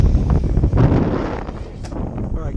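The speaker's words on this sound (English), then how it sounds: "Unfortunately, the wind's picked up some." Gusty wind buffets an outdoor microphone near water at an RC truck test with a Kraton EXB, a steady broadband rumble with loud swells and lulls throughout.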